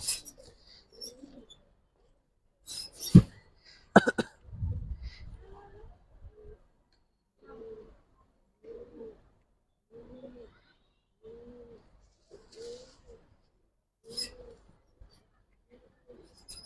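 Giribaz racer pigeons coo in a series of soft, evenly spaced low calls, each brief and close, with a few sharp knocks and rustles early on and no talking.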